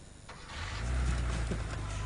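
A Porsche engine turns over and catches after the key is turned, rising into a low, steady idle rumble heard up close in a car interior.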